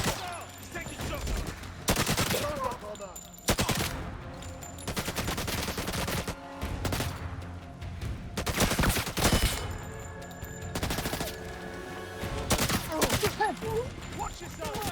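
Rapid gunfire in the video game First Light, dense bursts of shots and automatic fire that go on almost without a break, loud throughout.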